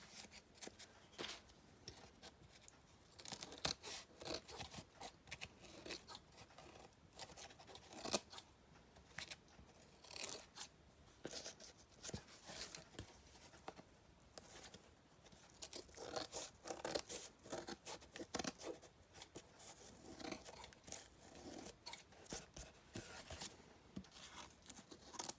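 Scissors trim the pages of a vintage book in quick, faint, irregular snips and crunching cuts, close up with no talking.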